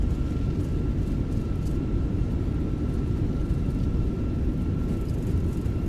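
Thrust reversers on a Fenix A320 roar during landing in Microsoft Flight Simulator, a steady loud low rumble of engine noise throughout with no voices.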